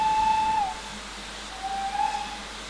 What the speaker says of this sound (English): So, if you toot the whistle.